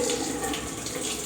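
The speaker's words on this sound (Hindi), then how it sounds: "और पानी भी इसका दिखाते हैं चला के" Water running steadily from a small kitchen sink tap, a continuous close hiss and splash with no talk.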